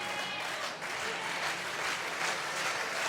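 A crowd in an indoor hall applauds and cheers at a badminton semifinal of the 2015 Denmark Open, a dense, steady roar of clapping throughout with a commentator's voice faintly underneath.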